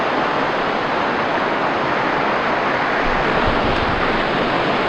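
Mountain stream near Ouzel Falls, its rocks partly frozen, rushing over stones in a steady, loud, close broadband roar with no break and no voices.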